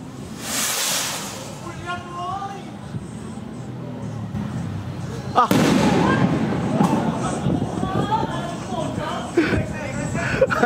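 A Reden Atomic Witon firecracker, a kind tested at churches in Cavite, goes off in loud blasts: a sharp burst early on, then a bigger boom followed by rolling crackle and rumble, with people talking throughout.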